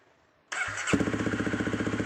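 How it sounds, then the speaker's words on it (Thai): A 2017 Honda CRF250L motorcycle starts after a moment of quiet: the starter whirs briefly, then the single-cylinder engine catches and settles into a loud, close, evenly pulsing idle. "กดสตาร์ทเครื่องครับ"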